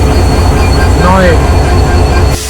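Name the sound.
Banglabandha Express train departing Natore station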